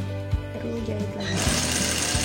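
A sewing machine stitching a pocket runs in a steady mechanical whir with a few low thumps, loud and close; the motor pitch shifts partway through as it keeps going.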